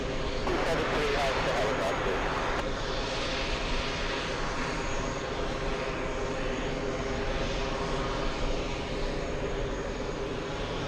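A Delta airliner arriving from Rome, its engines a steady, broad roar that holds at one level throughout, with a brief brighter burst of noise near the start and faint voices underneath.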